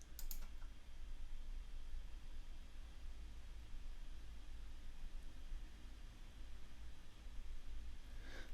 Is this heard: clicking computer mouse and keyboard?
yes